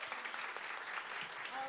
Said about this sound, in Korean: 그리고 함께해 주신 모든 관계자 선생님께 박수 부탁드립니다.